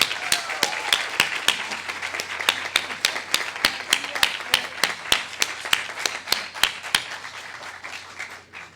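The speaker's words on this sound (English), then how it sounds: "Let's give her an applause just for that." An audience at an apartment ribbon-cutting ceremony claps in steady, sharp, evenly spaced beats, a rhythmic round of applause heard at moderate distance for several seconds.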